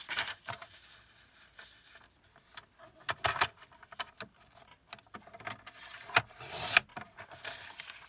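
Scissors cut a folded sheet of matte card stock in half, with soft rubbing snips and rustling scrapes in irregular bursts, close and quiet, ending in a sharper slice.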